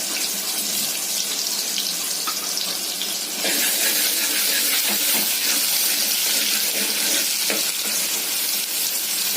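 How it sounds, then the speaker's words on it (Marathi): Onion hits hot oil for tempering in a Malvani black pea sambar, giving a loud, dense, continuous sizzle that swells after a few seconds, with faint scraping stirs throughout and no talk. "तर आता आपण कांदा घालूयात फोडणीला"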